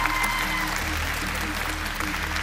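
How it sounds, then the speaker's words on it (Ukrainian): Studio audience on a televised talent show applauding steadily after a mentalist act, a dense, even wash of clapping from start to finish. "Оплески для Ксенія."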